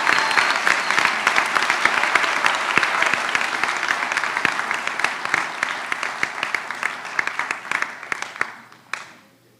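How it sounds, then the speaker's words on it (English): Steady, dense applause from the audience at a white coat ceremony for a graduating medical class, sustained for several seconds and then cutting off abruptly near the end, with no talking over it. "let's give them one more round of applause, congratulate them on their way out"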